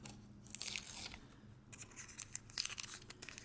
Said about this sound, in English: I'm going to remove this piece of tape.